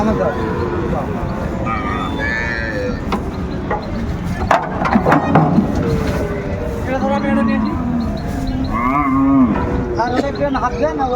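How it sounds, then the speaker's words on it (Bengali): Sahiwal breed cattle, bull calves at a market in Bogura, moo in several drawn-out calls amid a busy outdoor din, with people talking nearby throughout. "গরুগুলো"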